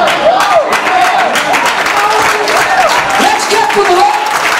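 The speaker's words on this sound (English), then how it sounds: "Let's clap for the Lord." Church congregation clapping hands together in a steady, dense wash of applause, while a voice talks and sings over the top.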